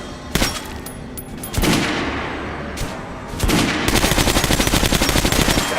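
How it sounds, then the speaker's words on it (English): Gunfire at a shooting range in Metro: Last Light, starting with scattered single shots and short bursts, then a rapid, evenly spaced automatic string, loud and close with no talking. "Head over to my range and try out those guns."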